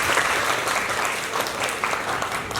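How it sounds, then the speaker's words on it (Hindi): A live audience claps loudly together at a mental health talk, a dense continuous burst of applause filling the whole moment. "सो एक बार जोरदार ताली।"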